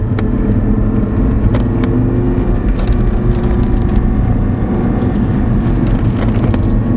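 An Audi R8 sports car drives on a track, a steady, loud engine drone with constant low rumble and occasional sharp clicks, heard continuously from inside the car.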